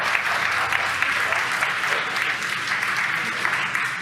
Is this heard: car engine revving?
no